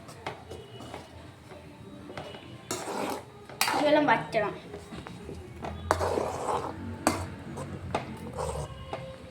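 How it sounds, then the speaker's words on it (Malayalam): Noodles stirred in a metal pan with a utensil, giving irregular clanks and scrapes against the pan, close and moderately loud, with a person speaking briefly alongside. "ഇങ്ങനെ നമുക്കിങ്ങനെ ഇളക്കി കൊടുക്കാവേ"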